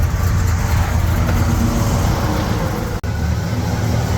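Car engine idling steadily after a distributor bypass, a loud, continuous low rumble close by with one brief dropout near the end.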